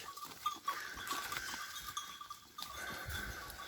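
Sheep and goats out grazing on a morning pasture near a fodder-beet field, with bleats and animal calls over the background noise of the flock and a faint cowbell clank.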